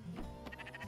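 A sheep in the video game Spiritfarer gives a single short, faint bleat that wavers briefly.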